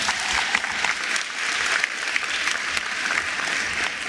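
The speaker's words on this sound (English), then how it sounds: "Let's give her a wonderful round of applause." A crowd applauds the Deputy Minister of Basic Education at the national senior certificate results announcement, steady, dense clapping filling a large hall without pause.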